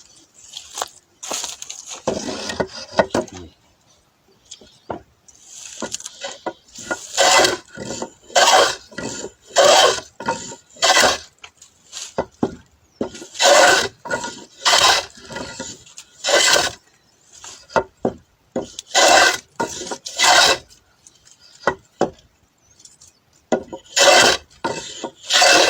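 A hand plane (randa) is pushed along a piece of wood being readied for a charpai, giving repeated rasping, shaving strokes in a steady rhythm, each one loud and close, with short pauses between and no voices.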